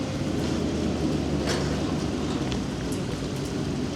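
Steady rain falls over an outdoor town square during a supercar show in Londonderry, a constant close hiss of drops hitting surfaces with no voices, holding an even level throughout.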